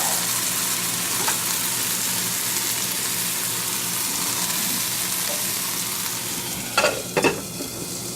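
Portobello mushrooms frying in a pan give a steady, even sizzle throughout, close and moderate in level, with a couple of brief stirring clatters near the end and no talking.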